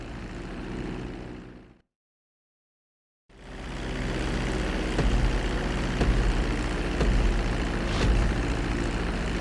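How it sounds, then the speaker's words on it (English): A plane approaching a runway for landing in GTA V, a steady loud engine and propeller drone that cuts out briefly, then returns and holds level with faint rattles. "Now I'm going to have you attempt a safe landing on the runway."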